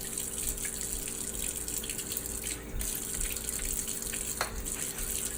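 Warm water runs steadily from a tap while nebulizer parts are taken apart and washed, a soft continuous splash with a few brief clinks and handling noises, no speech.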